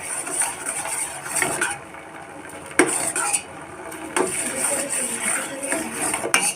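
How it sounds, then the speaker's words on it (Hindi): A spoon scrapes and clinks around a pot of herbal kadha decoction simmering over a medium flame, steady stirring with occasional sharper metal knocks against the pot. "इसी तरीके से हम इसको बराबर चलाते रहेंगे।"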